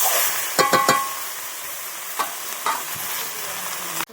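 Mixed vegetable chorchori frying in a pan, a continuous close sizzle with a quick cluster of spatula scrapes near the start and a few scattered stirs afterward.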